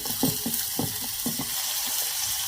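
About two teaspoons of finely chopped onions fry in hot oil for a paneer curry, giving a steady sizzling hiss with a few soft low knocks near the start. It sounds close and moderately loud, and no one speaks.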